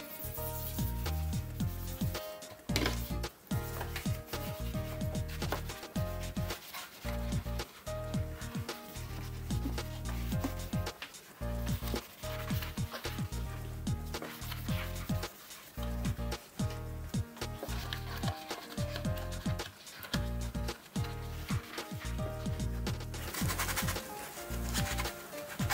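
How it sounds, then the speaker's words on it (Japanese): A yellowed, chlorine-stained kitchen sponge is scrubbed with dish detergent in a sink to lift oily grime, giving steady, close, rhythmic rubbing and squishing strokes throughout. "スポンジ洗いが終わりましたので水ですすいでいき"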